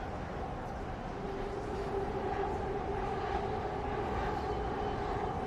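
Vancouver SkyTrain on the Expo Line running along elevated tracks, a steady rumbling roar with a sustained tonal whine, continuous and fairly close throughout.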